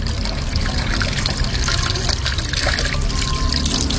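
Steady running water pours and trickles over an overhead fishing reel being rinsed at normal, low pressure, a continuous close splashing wash that holds evenly throughout.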